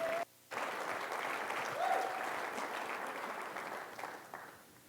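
Audience at a scientific conference plenary applauds in a steady, sustained wash of clapping, moderately distant and fairly soft, with a brief dip near the start.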